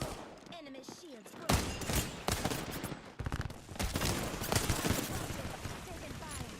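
Rapid video game gunfire striking energy shields, loud bursts of automatic fire arriving in clusters with dense crackling impacts, mixed with background game sound.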